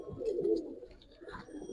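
Giribaz pigeons at a pigeon farm in Old Dhaka give a soft, low cooing over a couple of seconds, fairly close with faint background noise.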